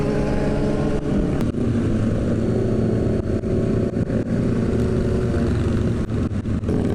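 A motorcycle with an M4 exhaust drones and revs steadily with a deep, throaty exhaust rumble, loud and sustained for the whole stretch.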